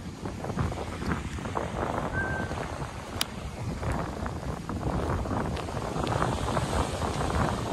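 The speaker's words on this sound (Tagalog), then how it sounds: "malakas talaga yung hangin" Strong wind from Typhoon Enteng buffets the microphone at Talao-Talao Beach in Quezon, continuous low rumbling gusts with a faint wash of surf in the background.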